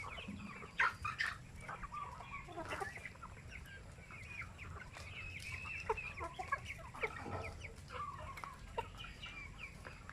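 Native chickens cluck repeatedly around a farm pen, with overlapping calls from several birds set against steady background noise.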